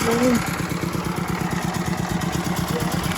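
A small engine on a homemade Chinese tractor with a leaking radiator idles in a steady, fast, chugging rhythm after starting, near and moderately loud, while a person talks briefly over the start.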